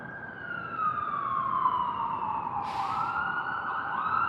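An emergency siren wails steadily at a distance, its tone sweeping down and back up against a low background hum.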